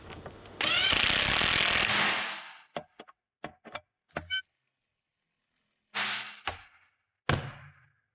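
Winch gearbox bolts are tightened with a power tool in one loud, sustained burst, followed by a few sharp ratcheting clicks and metallic taps, then two shorter buzzing bursts close by.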